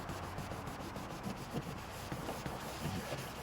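A cleaner being rubbed over a surface to lift pen marks while fitting a Red Paddle accessory mount, a steady close scrubbing and rubbing texture running throughout.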